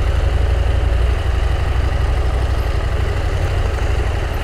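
A motorcycle engine idles close by while parking on a street in Tequila, Jalisco, a steady low rumble with fast even pulsing that holds throughout.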